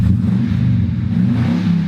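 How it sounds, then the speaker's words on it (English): A Chevrolet car engine idling and revving with a deep, throaty modified exhaust, loud and close, steady low rumble throughout. "has the exhaust been modified, as you can hear"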